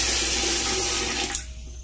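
Water runs steadily from a faucet with an aerator freshly refitted with a black rubber O-ring, a close, loud hissing stream that cuts off sharply partway through, leaving quieter room noise.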